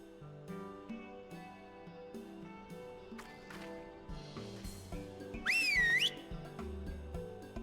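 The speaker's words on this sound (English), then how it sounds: "Oh right, you still got those whistles Sooner gave me." A short warbling whistle toot in Final Fantasy XIV Stormblood rises and wavers in pitch over gentle in-game background music, standing out loudly for about half a second.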